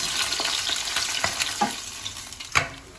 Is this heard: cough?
no